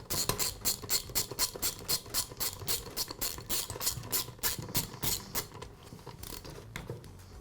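A ratchet tightens the clutch on a Troy-Bilt string trimmer with a rapid, even series of close, crisp clicks. The clicking runs for most of the stretch and then trails off, with no talking over it.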